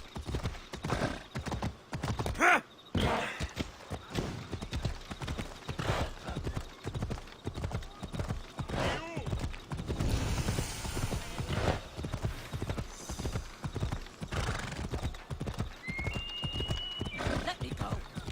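Steady clip-clop of horse hooves at a brisk rhythm in Assassin's Creed Odyssey, with occasional neighing, close and continuous throughout.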